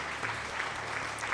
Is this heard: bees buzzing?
no